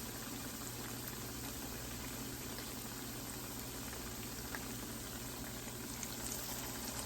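Salmon patties fry in a hot pan on medium-high heat, giving a steady, even sizzle with faint crackles and pops, quiet and continuous with no talking.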